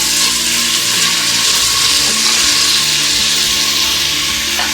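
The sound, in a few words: onions with salt frying and being stirred in rice cooker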